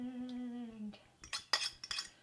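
Utensil stirring eggs into flours in a bowl for gluten-free cornbread, giving a few soft scrapes followed by sharper, irregular clinks of metal against the bowl, close by and fairly quiet, after a brief tonal hum at the start.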